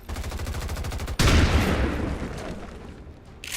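A single loud shotgun blast from the XCOM 2 video game cuts in sharply over a rhythmic background beat, then its echoing roar decays over the next two seconds.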